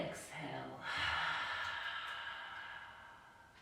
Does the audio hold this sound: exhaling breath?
yes